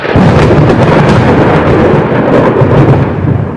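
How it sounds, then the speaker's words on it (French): Torrential rain pouring through the night of December 31, a loud, dense, steady roar of downpour with deep thunder rumbling beneath it and no voices. "la pluie diluvienne a cette fois-ci gâché la nuit du 31"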